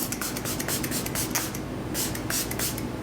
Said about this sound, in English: I'm actually gonna go ahead and use this spray first